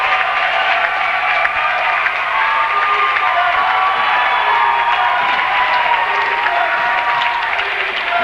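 Crowd at a boys' varsity high school basketball game applauding and cheering in a loud, sustained roar with scattered shouts across the gym, with no talking heard.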